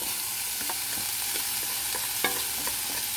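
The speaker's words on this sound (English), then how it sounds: "So you can hear a little sizzle there as we bring the meat back." Ground beef sizzles quietly in a cast iron skillet over low heat, with a few light clicks and scrapes of stirring over the steady crackle.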